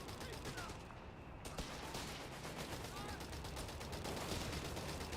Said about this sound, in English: Big hits from the Recce artillery too.